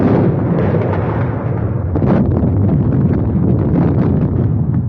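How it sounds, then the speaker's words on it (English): Continuous roaring rumble of an artillery barrage in a World War I trench, dense low booms and bursts blending into a loud, sustained wall of explosions with no pauses. "Somebody will have to crawl through that barrage."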